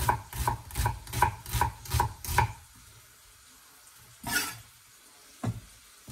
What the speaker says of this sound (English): At this point, we want to finely chop our onions.